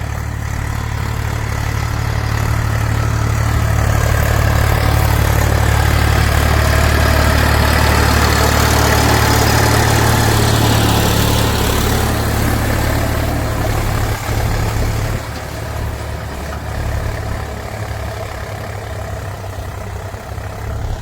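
A tractor engine runs steadily nearby, a loud, continuous mid-pitched drone with a strong low rumble that eases slightly in the second half.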